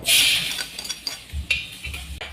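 Minced garlic sautés in a pan for Ilocos miki noodles, with a short hiss at the start followed by scattered clinks and scrapes of a spatula against the metal, close and without speech.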